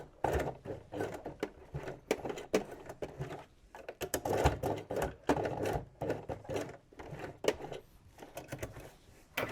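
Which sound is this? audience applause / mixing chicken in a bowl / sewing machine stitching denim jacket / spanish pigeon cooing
sewing machine stitching denim jacket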